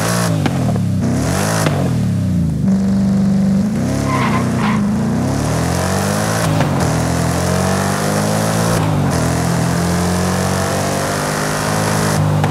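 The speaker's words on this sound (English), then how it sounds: "This sounds like a proper V8." A loud Ford Mustang Dark Horse V8 engine in a video game revs hard and continuously, rising and falling in pitch, with a deep throaty rumble and occasional tire screech, close and alone.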